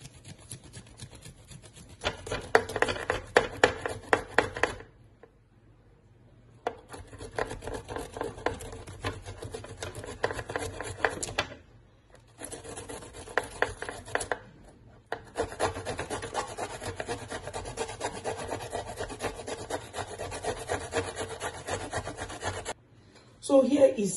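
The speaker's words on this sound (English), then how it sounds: "to shred the ginger" Fresh ginger is rubbed against a hand shredder in long, steady rasping strokes, loud and close, broken by a few short pauses.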